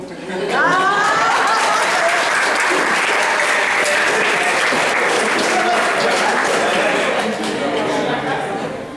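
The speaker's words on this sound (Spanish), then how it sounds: "Oye, y el aplauso." An audience at a school literature night of terror and suspense breaks into sustained applause, dense clapping from a crowd that swells quickly and holds steady for several seconds with faint chatter mixed in.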